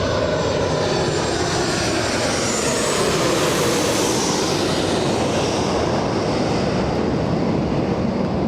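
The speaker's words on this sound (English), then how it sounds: "We have this one, Alaska 1292, flying in from Seattle, Washington" An Alaska Airlines Boeing 737-900 airliner flies in to land at LAX, a broad, loud jet roar that swells and sweeps slowly across several seconds with no talk.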